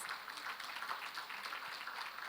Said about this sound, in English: Could we get a round of applause?